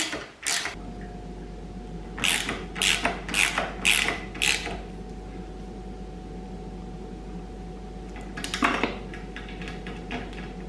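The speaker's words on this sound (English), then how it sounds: "then I will stick a wrench up underneath here. Tighten that." Ratcheting clicks from a wrench tightening bolts on Tusk crash bars fitted to a 2022 Kawasaki KLR 650, one close burst of quick turns followed by a shorter second run after a pause, over quiet background hiss.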